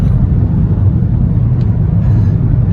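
Inside a loud project car, the engine produces a constant, heavy low rumble that fills the cabin, steady and close with no talk over it.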